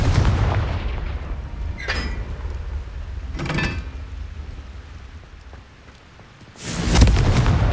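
Fiery explosions from the Confringo spell in Hogwarts Legacy burst three times: sharp blasts near the start and middle, and a louder, longer one at the end, over a steady low rumble of battle noise.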